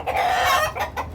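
Brahma chickens, a white rooster among red hens, cluck in quick, close bursts, a short run of throaty calls repeating in a farmyard.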